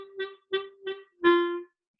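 Four short, spiky staccato quavers on a reed instrument, evenly spaced, followed by a longer held note, solo and close with clean silence between them.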